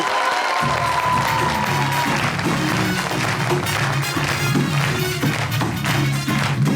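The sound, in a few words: audience applause for Shahzaman Ali Khan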